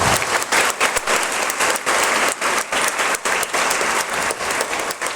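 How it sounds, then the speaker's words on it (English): Sustained applause from a large crowd, dense steady clapping filling the whole stretch without pause. "Please give a big round of applause."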